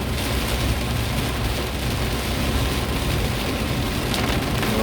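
Heavy rain pouring down steadily as a dense, even hiss with a constant roar, loud and unbroken for the whole stretch, with no voices.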